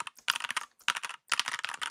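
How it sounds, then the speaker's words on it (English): A wireless computer keyboard held right up to a microphone clatters with rapid, crisp keystrokes in three quick bursts separated by short pauses, loud and very close, with no voices. "I'm gonna turn off my wireless keyboard for a second, and I'm gonna put this up to my screen or to my mic."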